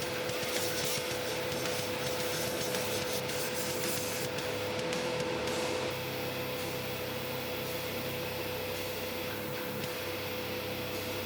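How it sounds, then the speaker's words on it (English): An airbrush sprays rusty base paint onto a Hot Wheels model car, giving a steady, dense hiss that continues throughout with slight shifts. "I'm just sort of wiggling the airbrush around while I paint"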